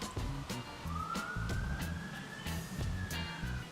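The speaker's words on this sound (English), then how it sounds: "I live in Dagenham, so you're gonna hear sirens" A police car siren wails outside on a street in Dagenham, a distant rising and falling tone over low traffic rumble and room noise.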